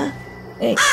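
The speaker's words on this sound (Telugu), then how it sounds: "ఇంటి కాకి సౌండ్ వినిపిస్తుంది." A single loud, harsh crow caw in a horror video game, short and close.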